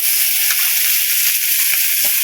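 Onion shoots fry with sliced onion in a hot pan for a bitter gourd biryani, giving a loud, continuous close-up sizzle with faint stirring and no talking.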